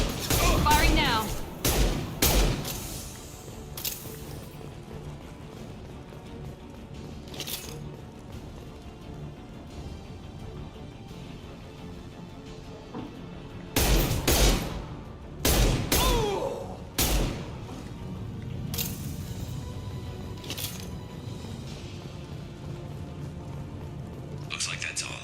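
Gunfire in the Mass Effect 2 video game, with several bursts of sharp shots near the start and around the middle, and quieter stretches where people talk between them.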